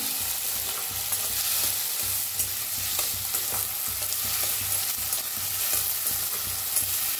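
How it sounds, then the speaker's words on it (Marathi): Chopped tomatoes stirring and roasting in a pan for an onion dal dish, a steady close sizzle with scraping stirs throughout and no talking. "त्याला बी छान असं भाजून घ्यायचं। हलवं तर छान असं भाजायचं"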